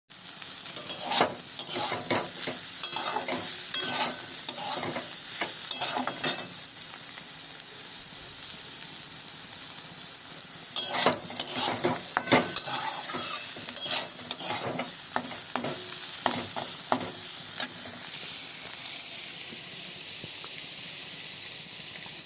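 Home kitchen cooking with a utensil stirring and scraping in a pan while food sizzles and fries, in repeated bursts of stirring over a steady hiss, close and without talk.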